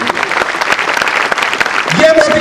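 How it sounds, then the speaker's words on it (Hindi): Audience clapping at an Indian poetry gathering (kavi sammelan), a brief burst of dense applause with a voice speaking over it near the end. "हमारे बड़े भाई पर तालियां बजाओ"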